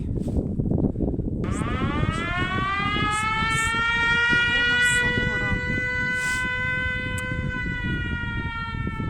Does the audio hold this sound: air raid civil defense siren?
yes